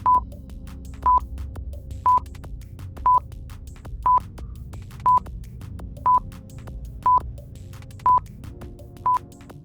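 A telephone call being dialed: a steady series of ten evenly spaced keypad beeps, about one per second, over a low background hum, with no one talking.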